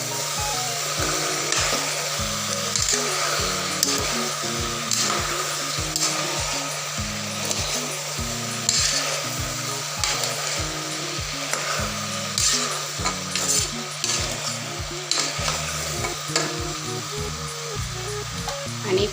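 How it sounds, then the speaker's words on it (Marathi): Mixed vegetables for khatkhate stirred in a hot pan, a steady scraping and tossing over a continuous sizzle, close and fairly loud throughout with no talking. "तर हे आपण सर्व मिक्स करून घेऊयात"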